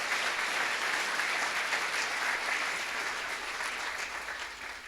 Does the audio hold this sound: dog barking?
no